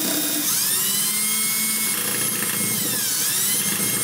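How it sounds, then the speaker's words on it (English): A drill bores out the remains of a heat shield rivet on a 2002 Cadillac DeVille DTS, a loud, close, high-pitched whine that rises and dips in pitch as the bit bites through the metal, with no talking. "we're going to drill the remaining part of this rivet out"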